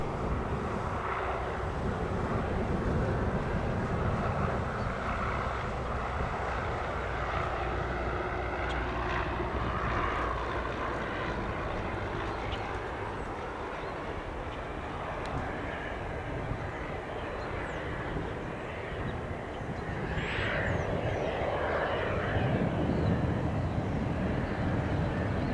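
A general aviation aircraft taxiing at Spirit of St. Louis Airport, a continuous engine hum and rumble at moderate distance with steady wind noise, faint radio chatter in the background.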